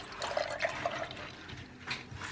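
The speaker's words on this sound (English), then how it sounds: "Then I'm going to put my milk in this glass." Milk poured into a glass for iced coffee, a close, steady liquid gurgle and splash lasting a couple of seconds with small bubbly tones, no voices.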